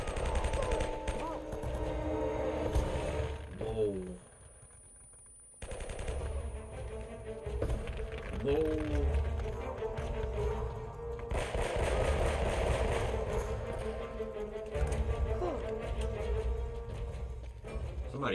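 Bursts of M4 rifle fire in the video game Uncharted: Drake's Fortune repeat loudly and almost without a break over about eighteen seconds, with one short pause, over a steady game soundscape.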